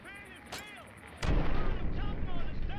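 A grenade detonates in the video game Fallout 3, a sudden loud, broad boom that rolls into sustained rumbling and crackle, after a short sharp burst and faint game sounds beforehand.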